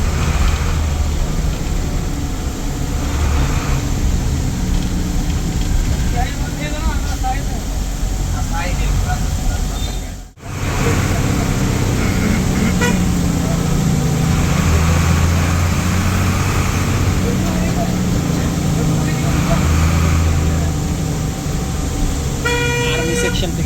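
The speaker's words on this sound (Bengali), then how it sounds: "এর ইঞ্জিন সাউন্ডে আসলে নেশা জাতীয় কোনো কিছু আছে" A Nissan UD bus drones along at night on the road from Chittagong to Cox's Bazar, a steady low engine roar beneath ongoing talk, with occasional horn toots from passing traffic.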